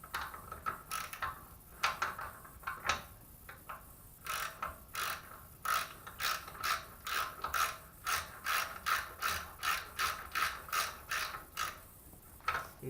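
A hand ratchet clicks as bolts are tightened on the swing-away tongue of a bass boat trailer, starting with irregular strokes and then settling into a fast, regular run of sharp clicks, close by with no speech.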